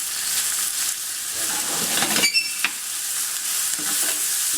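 Tinned apple stirred in a pan for apple and rhubarb crumble, a continuous sizzling hiss with a brief cluster of louder scraping knocks midway, no talking.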